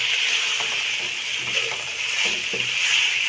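Chicken macaroni being stirred in a pan after lemon juice is added, with soft scraping and gentle sizzling under a steady frying hiss, occasional light knocks of the spoon against the pan.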